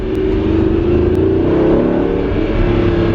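An Audi V8 car accelerates hard on an open road, its engine droning loud and close at a high, steady pitch with a constant rumbling under it, heard from inside the car without talk.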